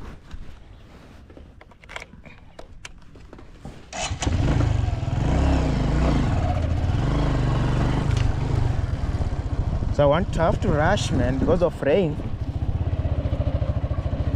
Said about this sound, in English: And I'll take the motorbike here.